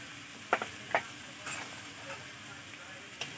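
A spoon scrapes and clinks in a pan of banana flower and shrimp frying with ghee, a few sharp close knocks over a soft, low sizzle.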